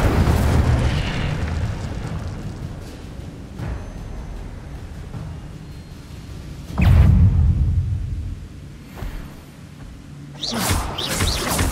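Incendio, a fire spell from the Hogwarts Legacy video game, is cast several times, each giving a loud, booming, fiery burst that rumbles and fades over steady game ambience.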